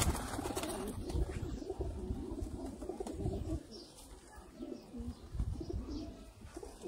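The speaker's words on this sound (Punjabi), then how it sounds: "ਸਾਡਾ ਬਰੀਡਰ ਕਬੂਤਰ ਹੈ" A Sialkoti breeder pigeon coos in soft, repeated low calls close by, with faint chirps and some wing rustling around it.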